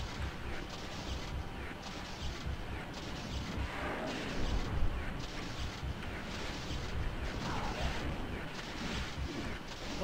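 Rocket fire and explosions in Doom 2 Remix rumble as a dense, continuous barrage of muffled blasts and mechanical pulsing, fairly quiet and without talk.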